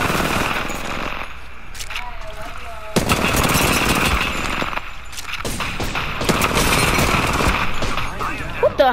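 Rapid bursts of automatic gunfire in Apex Legends, loud, close and repeated, separated by brief pauses, with a voice present.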